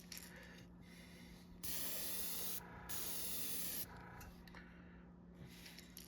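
A Gaahleri Mobius 0.2 mm airbrush sprays thin fluorescent green paint onto fishing lures, giving two steady hissing bursts of a second or so each, close and clear amid quiet handling noise.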